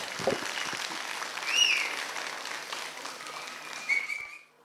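An audience claps for a young girl after her Kannada retro fusion song at a kids' school annual day, a soft, fairly distant spread of applause with a couple of whistles rising over it before fading out.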